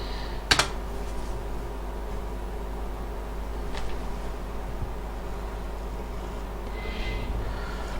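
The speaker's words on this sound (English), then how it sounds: "bring down the console and type in map EP4" Keys tapped on a computer keyboard to enter a map command into a game console, a sharp burst of clicks near the start and a faint tap later over steady background hiss.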